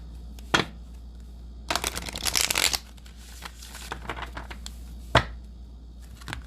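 Tarot cards being shuffled by hand, with soft riffling bursts, a longer dense flurry in the middle and a few sharp card snaps, close and fairly quiet with no talking.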